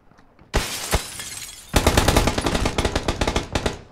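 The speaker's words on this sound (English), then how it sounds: "They're shooting from outside." Gunfire in the video game PUBG: after a quiet start, a single shot rings out, then a rapid burst of automatic fire, loud and crisp with echoing tails.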